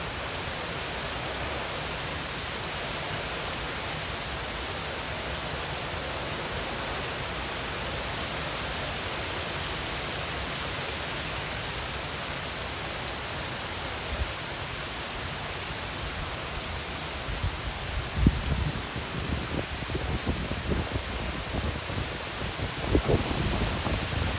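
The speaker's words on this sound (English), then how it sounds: "Rain like crazy." Heavy rain pouring during Hurricane Melissa in St. Elizabeth, Jamaica, a dense, steady hiss of downpour with occasional closer drips and thumps toward the end, no voices.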